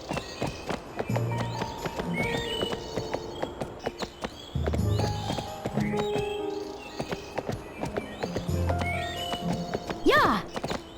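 Hooves clip-clop steadily as a horse is ridden through a forest trail in Barbie Horse Adventures: Wild Horse Rescue, with game music underneath and a bright whinny near the end.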